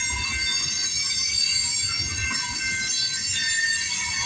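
A CP freight train passes on a frigid night in Campbellville, Ontario, its wheels squealing high and sustained above a low, continuous rumble of rolling cars.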